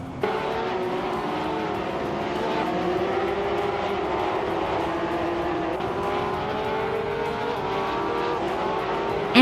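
Race cars in a video game, among them a 2010 Porsche 911 (997) GT, roar in a steady, loud engine drone with rising and shifting revs throughout, with no talk.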